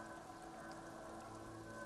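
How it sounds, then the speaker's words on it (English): Rain falls on wooden planks and surrounding sand dunes in Disco Elysium, a faint, steady patter and hiss with no voices. "Droplets of rain fall on the wooden planks, the surrounding sand dunes."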